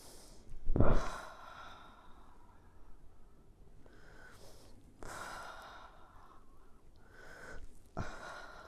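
Several deep breaths from a chiropractic patient, a sharp gasping inhale near the start followed by slower sighing exhales and further strong breaths at intervals, close and fairly quiet with no talk.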